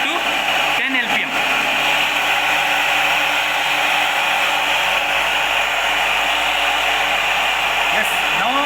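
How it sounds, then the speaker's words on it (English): Electric motor running steadily in a flat vane water impact test rig, a loud continuous whirring and rushing noise like a hair dryer, with a brief speech-like sound near the start and near the end. "I will switch on this motor."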